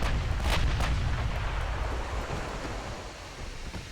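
Heavy battleship gunfire booms in Ultimate Admiral: Dreadnoughts as shells land, with a couple of sharp impacts early on, then a deep, rolling rumble that slowly fades.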